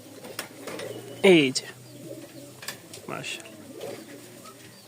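A pair of Giribaj pigeons from Rajshahi gives one clear, close, rolling coo amid soft rustling, while someone speaks briefly nearby.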